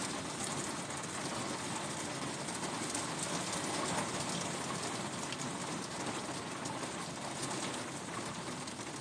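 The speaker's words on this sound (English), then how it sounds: "The sound of the rain actually helps to reboot your mind as well." Steady rain pours down in a dense, even hiss of drops striking surfaces, constant and moderately loud for the whole stretch with no voices.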